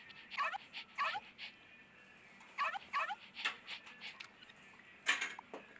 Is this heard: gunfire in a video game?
no